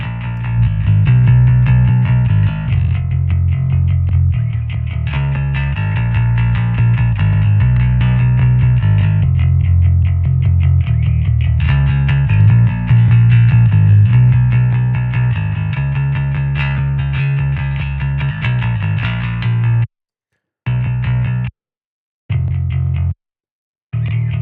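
Distorted, chorused music plays through an SSL 4000 channel strip while its low-frequency band is adjusted, a steady loud passage with bass sweeping in level, then choppy cuts to silence near the end.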